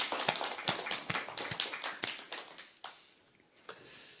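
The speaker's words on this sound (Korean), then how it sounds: "우리 하나님께 영광의 박수 올려 드리겠습니다." Church congregation clapping together in praise, a dense run of rhythmic claps that fades out into quiet room tone after about three seconds.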